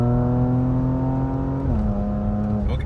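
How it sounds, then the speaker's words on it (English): A Porsche Macan GTS engine holds a loud, steady rev, then drops pitch sharply as it shifts gear, followed by a short pop near the end, heard up close from inside the car. "I like this sound it makes when it shifts. It sounds awesome. It kind of pops, right?"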